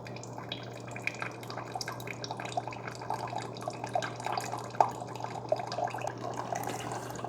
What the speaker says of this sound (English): I'm only getting coffee coming out of the bottom